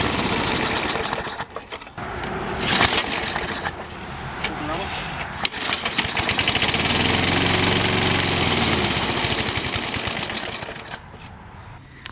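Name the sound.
lawn mower engine running after carburetor cleaning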